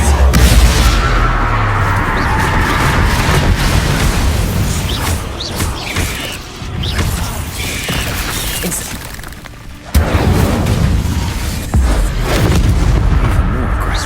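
Repeated fiery blasts from the Incendio spell in Hogwarts Legacy, loud booming bursts with crackling over a dense game soundtrack, a sharp renewed burst partway through.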